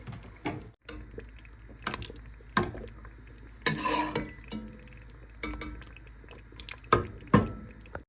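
Clattering spoon and pot knocks with wet scraping as cooked meat goes into thick dal for haleem, a series of sharp metallic hits separated by quieter stirring.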